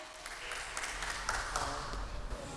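Concert audience applauding and cheering to welcome the troupe leader, a dense wash of clapping with scattered shouts, steady and fairly distant throughout.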